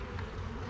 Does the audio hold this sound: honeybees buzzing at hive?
yes